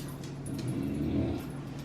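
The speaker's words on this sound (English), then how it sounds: "Don't bark at me." A dog growling and whimpering in an excited, continuous low rumble close by, indoors in a home, with no clear separate barks.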